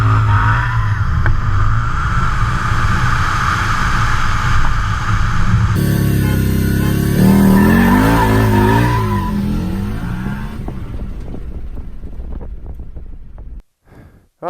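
Harley-Davidson V-Rod motorcycle rear tire spinning in place without grip, a loud sustained roar of engine and tire squeal that shifts in pitch midway and fades toward the end.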